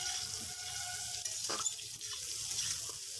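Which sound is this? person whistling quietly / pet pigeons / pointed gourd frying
pointed gourd frying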